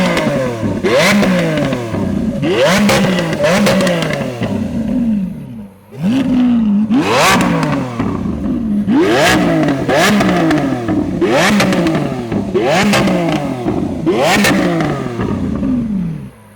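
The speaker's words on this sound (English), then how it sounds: "We're gonna floor it, and he can get flames to come out of this thing. And I want you to hear it." A Lamborghini Aventador engine revs hard again and again while throwing exhaust flames, each loud roaring burst sweeping up and falling back with crackles, repeating roughly every couple of seconds and close to the listener.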